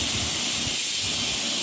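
Steady, loud hiss of steam rushing from a pressure cooker being opened after cooking a Mangalore-style mixed vegetable dal, a continuous close-up whoosh with no talk.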